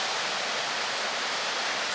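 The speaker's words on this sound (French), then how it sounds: "On a trouvé une petite cascade au fond là." A small waterfall rushing steadily at close range, a dense even roar of falling water with no breaks and no voices.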